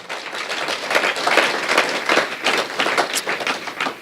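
A church congregation claps and cheers in praise of the Lord during a French-language sermon, the applause dense, steady and loud, with crowd voices mixed in throughout.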